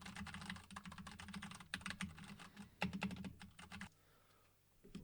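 An Akko mechanical keyboard is typed on in quick bursts of crisp, close clicking keystrokes, with short pauses between runs and quiet at the end.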